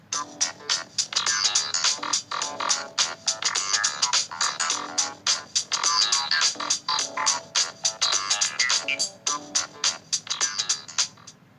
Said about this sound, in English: I will be playing the mission complete music, and it sounds like this.